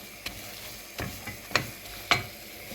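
Flour roasting in a pan for un helvası, a steady soft sizzle with a spoon scraping and stirring, giving several sharp clicks and knocks at irregular intervals.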